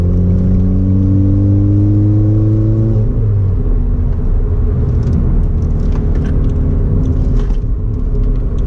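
A Ford Fiesta Mk6 accelerates on a test drive with a loud, close engine hum that drops in pitch after a gear change, then a steady road rumble from inside the car.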